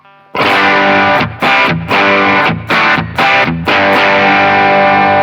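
A Rickenbacker 330 electric guitar with both pickups turned fully up rings out loud and distorted, struck in a run of sustained chords separated by brief choked gaps, with no talking.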